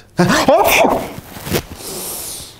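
One sneeze bursts out near the start on an Arabic studio talk programme about sneezing, then trails off into quiet room noise.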